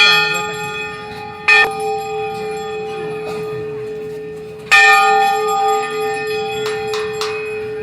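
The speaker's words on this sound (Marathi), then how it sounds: "प्रत्येकाला वाटते की मी घंटा वाजवली, त्याच्या घंटेच्या आवाजाने मात्र डोके दुखायला सुरुवात झालेली आहे" Temple bells rung by pilgrims at Char Dham clang loudly in two sharp strikes, each leaving a long ringing decay, with fainter bell taps following near the end.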